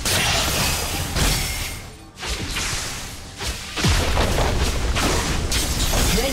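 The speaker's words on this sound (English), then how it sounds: "Red team's turret has been destroyed." A turret is destroyed in League of Legends, with booming crashes and swooshing impacts layered in dense game combat noise that stays loud the whole time.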